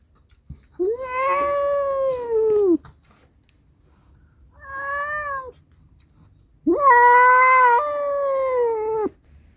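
Pet cats yowl and caterwaul in three loud, drawn-out, wavering cries, close by with short quiet gaps between them.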